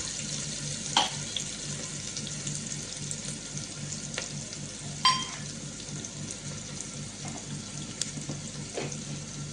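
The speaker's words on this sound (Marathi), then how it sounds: "कांदा जरा थोडासा लालसर परतून घ्या" Onions fry in a pan for dal tadka in a faint steady sizzle, with a few scattered clicks and stirring knocks.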